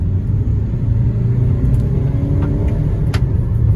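A 2022 Kia Seltos diesel pulling away from a start, a deep, steady engine rumble heard from inside the cabin, loud and continuous with faint higher whines and clicks near the end.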